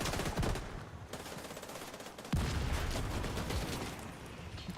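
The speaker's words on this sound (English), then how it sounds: "Oh, mortars are coming" Incoming mortar fire and battle noise in The Division 2, a dense continuous roar of gunfire and blasts with a sharp, heavy impact midway, loud and sustained throughout.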